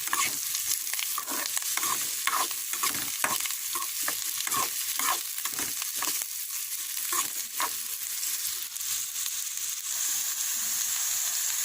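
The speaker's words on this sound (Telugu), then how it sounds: "చూసారు కదా, ఇప్పుడు ఫ్రై అయిపోయింది." Ingredients for a carrot pachadi fry in a pan. A steady, loud sizzle runs throughout, with repeated scraping stirs in the first half that fade out, leaving only the continuous frying hiss.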